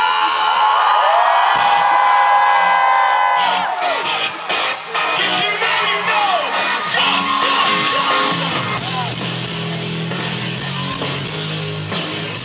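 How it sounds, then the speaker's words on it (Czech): A festival crowd cheers, whoops and shouts at a rock concert, a loud, dense wall of voices with music underneath that stays steady and enthusiastic throughout. "Jejich koncert sledoval pořádný dav fanoušků a pod pódiem to žilo."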